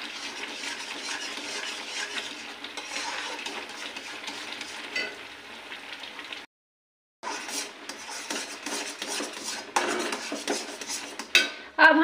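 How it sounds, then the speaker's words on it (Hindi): A spoon scrapes and stirs semolina halwa in a kadai with continuous, close, raspy strokes, pausing briefly partway before the stirring resumes. "तो इस तरीके से कंटिन्यू चलाते रहेंगे"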